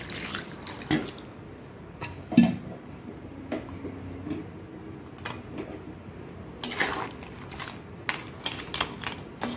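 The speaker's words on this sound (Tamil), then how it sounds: "இப்போ தண்ணி ஊற்றி நம்ம கொஞ்சம் நேரம் வேக விடலாம்." Water is poured into a simmering crab masala gravy in a pan, giving a soft crackling sizzle with scattered splashy ticks and drips, close and fairly quiet.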